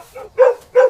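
A dog gives two short, loud barks in quick succession after a faint lead-in yelp, close and clear.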